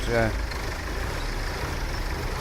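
A tractor engine idles in Farming Simulator 17, a low, steady rumble held throughout, with a brief voice at the start.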